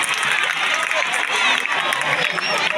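An audience claps and cheers at a school anniversary celebration, a dense, steady wash of hand claps and crowd noise that holds at even loudness for the whole stretch.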